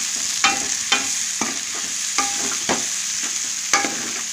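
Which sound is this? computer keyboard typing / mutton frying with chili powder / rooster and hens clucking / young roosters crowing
mutton frying with chili powder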